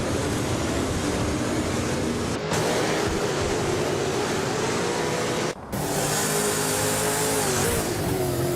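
A 2008 Ford Falcon FG V8 supercar roars through a racing video game, its engine droning loud and steady with rising and falling pitch through gear changes and brief drops in sound.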